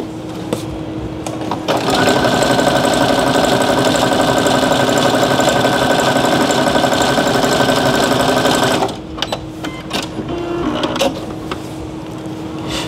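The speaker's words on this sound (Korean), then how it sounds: "이제 벌써 마지막 박음이고요" A sewing machine stitches a single-layer card wallet in one long, fast, steady run of whirring needle strokes. It stops abruptly near the end, leaving brief handling noises and a short whir.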